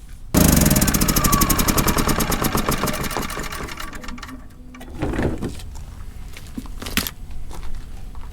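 An RV generator in a desert boondocking camp at Quartzsite, Arizona cranks and catches, then runs with a steady, loud mechanical drone. The engine rhythm shifts partway through and a few sharp clicks follow.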